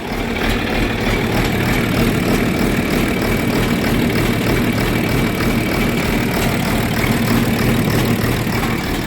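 A John Deere 4430 tractor engine idles after a leaky fuel filter replacement, a loud, steady, close diesel rumble that runs unbroken throughout.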